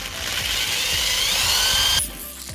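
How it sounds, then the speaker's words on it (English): Power drill boring a hole in metal roof rack for an ARB touring awning: a loud, close, continuous high whine with faint rhythmic grinding for about two seconds, then the motor cuts out and winds down. "now I'm going to go ahead and I'm going to drill that out"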